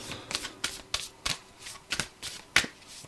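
Tarot cards shuffled in quick, crisp riffling bursts, about eight short flicks spaced irregularly, close and fairly quiet with no voices.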